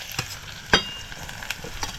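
Crispy dried shrimp chutney being fried and stirred in oil in a wok, giving a steady sizzle broken by a few sharp scraping clicks of the spatula, with no voices.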